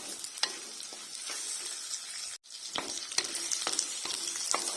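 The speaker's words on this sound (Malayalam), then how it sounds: "നന്നായിട്ട് ഉള്ളിയൊക്കെ മുരിഞ്ഞ് കണ്ടിട്ടുണ്ട്" Onions sautéing in a pan for a Kerala-style neymeen fish curry, a steady close sizzle with frequent scraping stirs and one brief break partway through.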